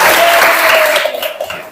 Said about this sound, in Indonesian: Betul sekali, tepuk tangan untuk Mbak Zaskia.